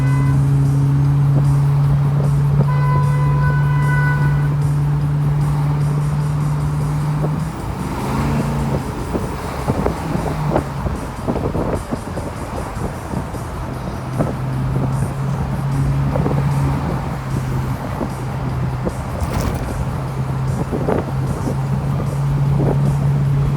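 A 1981 turbo Trans Am restomod comes off the freeway, its engine holding a steady, loud drone that gives way to rougher rumbling and road noise as it slows into the exit, with no talking.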